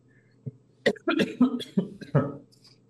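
A few quick, dry coughs in a row, close and fairly quiet, with a short throat-clearing rasp among them.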